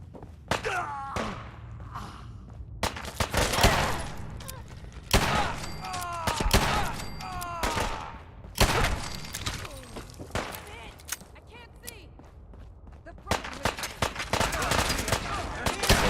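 Repeated gunfire and heavy thuds from combat in the video game Fallout 4, with loud irregular bursts and shots spread across the clip and game voices mixed in.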